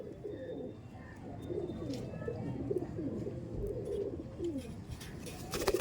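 Pigeons kept for sale at a home loft, aggressive males among them, coo repeatedly in low rolling phrases against a busy background hum.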